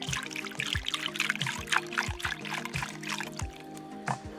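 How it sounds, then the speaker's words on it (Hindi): Water trickles and pours into a mortar of freshly pounded almonds for a village-style almond sharbat, a steady close gurgling stream with a few soft knocks and splashes along the way. "अच्छे से कूटने के बाद इस कुंडी के अंदर ऐसे पानी डालेंगे ऊपर से"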